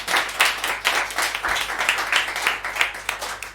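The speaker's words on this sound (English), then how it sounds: "Okay, one more round of applause for Ian." A conference audience gives steady applause for speaker Ian at the close of a tech miniconference session, many hands clapping together at a fairly even level throughout, close and continuous with no talking over it.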